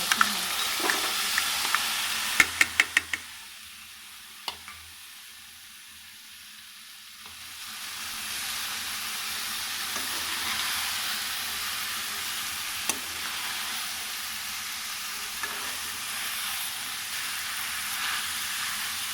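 Potatoes, carrots and peas tipped into fried masala in a hot pan, with a few sharp clatters at first, a brief lull, then a loud, steady sizzle that continues close up without speech.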